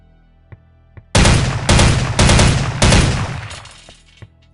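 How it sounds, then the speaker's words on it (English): An OICW rifle fires in Soldier of Fortune II: Double Helix, with four loud, close bursts of rapid automatic fire. Faint mechanical clicks come before and after. "As with your M4, the OICW has single-shot, burst fire, and full auto firing modes."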